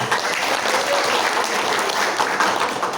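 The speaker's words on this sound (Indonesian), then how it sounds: "Tepuk tangan." Steady applause from an assembly at a plenary session after a chair is confirmed by acclamation, dense clapping sustained throughout at even loudness.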